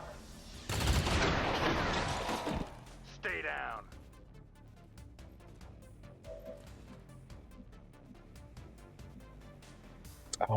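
Gunfire in a video game, starting with a loud, dense burst of shots that slowly fades into a long reverberant tail. A few scattered lighter hits follow, and voices talk over parts of it.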